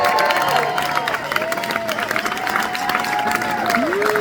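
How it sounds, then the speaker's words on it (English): A crowd at a live music show in Solana Beach, California applauds and cheers steadily throughout, dense clapping filling the space, with a sustained tonal musical line faintly running underneath. "Can I get a round of applause"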